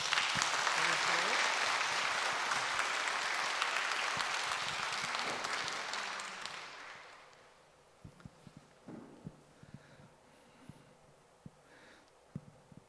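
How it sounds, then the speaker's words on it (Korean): A church congregation at a Sunday service applauds youth award recipients, the full clapping sustained for about six seconds before fading out, followed by scattered small handling noises and light sounds. "이렇게 부상과 함께 받아 박수 한번 쳐주세요"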